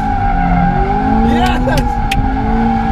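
Turbocharged Subaru BRZ drifting under throttle, a steady droning engine note with brief tire squeal and rising pitch mid-way, heard from inside the car.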